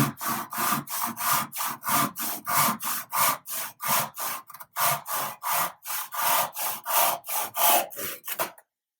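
Wood being hand-sawn for a homemade candy dispenser, a steady run of about two dozen rhythmic back-and-forth strokes, close and fairly loud, briefly pausing midway before finishing with a few faster strokes.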